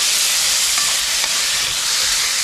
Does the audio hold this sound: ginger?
yes